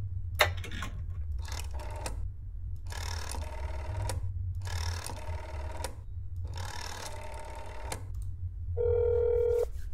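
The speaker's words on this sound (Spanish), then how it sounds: "A ver quién coge el teléfono." In a video game, a telephone rings after an apartment is dialed: five evenly spaced bursts of electronic ringing, each about a second long with short gaps, followed by a steady tone, clear and close.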